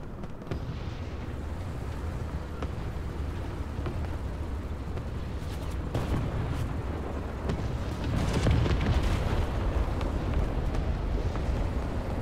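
Bombs from a bombing run in the War Thunder tank game burst in a steady roar of heavy explosions, building louder and more rumbling toward the end, with no talk over it.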